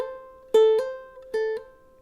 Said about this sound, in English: yeah, it seems just a little bit muffled